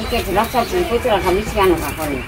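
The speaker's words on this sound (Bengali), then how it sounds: "কবুতরের বাচ্চা দিচ্ছে ডাকতেছে" Pigeon chicks in a rural village make a run of short, rising, peeping calls, repeated every half second or so at close range.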